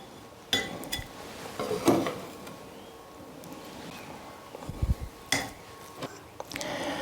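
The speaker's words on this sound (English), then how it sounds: "today I've chopped some up and I thought I'll mix it with me butter" Chopped garlic being mixed into butter in a dish in a cottage kitchen, with faint scraping and a few light clinks of a utensil against the dish, quiet and close, no talking.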